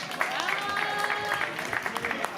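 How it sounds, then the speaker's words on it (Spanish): An audience at a children's fun run in Jarandilla de la Vera claps steadily in a brisk patter, the applause close and continuous, with voices calling out over it. "Venga, se puede aplaudir, que a los chicos les gusta."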